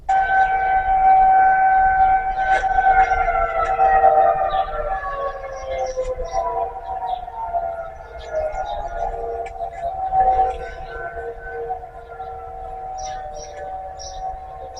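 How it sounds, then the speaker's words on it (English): A loud, sustained tornado siren wailing in long, slowly falling tones, echoing from a distance with faint background noise and no talk. "Some people are saying that this is a tornado siren"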